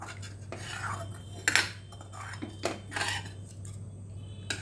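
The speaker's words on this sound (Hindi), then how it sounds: "अब ग्रेवी के लिए पानी ऐड कर देती हूँ। और अच्छी तरह से मिक्स करके बॉयल होने के लिए छोड़ देती हूँ।" Water is stirred into radish kofta curry gravy with a utensil, giving a few light metallic clinks and scrapes against the pot over a low steady hum.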